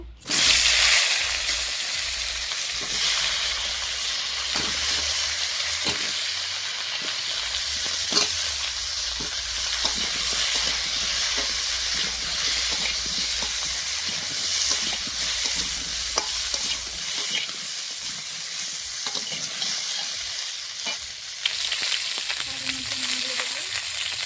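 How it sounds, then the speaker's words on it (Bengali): Cauliflower pieces fry in hot oil left from frying fish, a steady close sizzle with bubbling and occasional stirring clinks running continuously for about twenty seconds. "এই তেলে কিছুটা আরও তেল দিয়ে দেবো, কপিগুলো ভেজে নেব"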